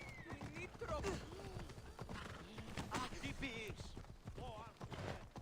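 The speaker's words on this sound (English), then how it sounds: "Where did that horse come from?" A horse in Assassin's Creed Odyssey clip-clops and whinnies close by, hoofbeats mixed with neighs, while people talk over it throughout.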